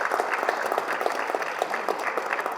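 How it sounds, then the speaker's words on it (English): People at a high school football awards ceremony give a round of applause, brisk and continuous clapping from a moderately sized crowd. "Give Jason a big round of applause."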